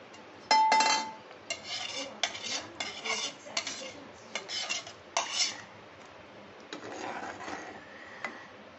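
Pot and utensil clatter while cooking paneer fried rice in a home kitchen, with a lid going onto the pot: a sharp metallic knock followed by a run of scraping, clinking handling sounds, close and moderately loud, with no talking.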